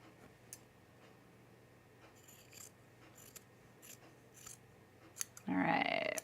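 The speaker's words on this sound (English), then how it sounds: "I kind of want to trim this down to like 3/8 here, the seam allowance." Scissors snip through the seam allowance of a 1930s-style blouse, a handful of sharp, separate clicks and short cuts spaced apart in a quiet room, ending with a louder rustling burst of handled fabric.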